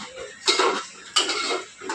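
A spatula scrapes and clacks against a pan as a mutton blood dish is stir-fried over medium gas heat, with two sharp metallic strikes and shorter scraping sounds between them, close and clear, with no talking.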